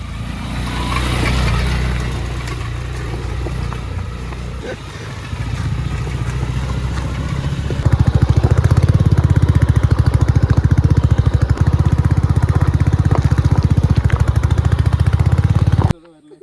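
A motorcycle rides off-road near Kothaligad, its engine rumbling unevenly at first and then swelling into a loud, steady drone for the second half before cutting off abruptly, with voices mixed in.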